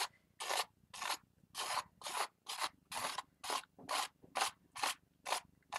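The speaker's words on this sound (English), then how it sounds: "So I'm just scraping as much as I can off right now." Repeated rhythmic scraping of paint off a painted canvas, about a dozen even strokes at a steady pace, close and fairly quiet with brief pauses between each pass.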